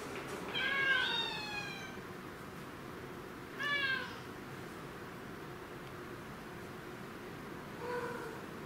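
Several cats meowing in shelter kennels, three separate calls spaced a few seconds apart over a steady background hum, fairly close and clear.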